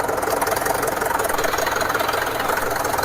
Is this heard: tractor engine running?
yes